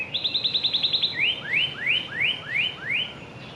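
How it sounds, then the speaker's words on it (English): A bird chirps a rapid trill of repeated notes, then a series of rising whistled calls at a steady pace, clear and close against quiet background. "I'm hearing some pretty birds."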